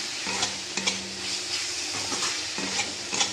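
Green chillies and vegetables frying lightly in a little oil for a prawn dish, with steady close sizzling and occasional stirring scrapes.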